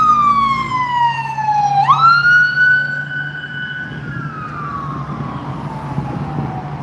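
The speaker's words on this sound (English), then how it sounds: "You're gonna hear ambulances here all day long." A loud wailing ambulance siren sweeps down, jumps back up and holds a long rising-falling tone, with traffic rumble underneath.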